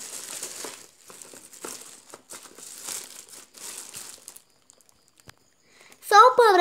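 Plastic soap wrappers are handled. Quiet rustling comes first, and a loud, close burst of crinkling follows near the end.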